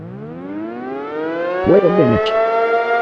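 Tsunami warning sirens wail loudly throughout, a steady rising civil-defense tone with layered harmonics, while someone speaks briefly over them.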